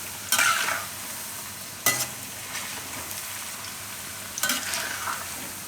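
Cabbage bhajiya mixture cooks in a pan with a steady low sizzle, broken by three short bursts of stirring and scraping spread across the stretch, with no talk.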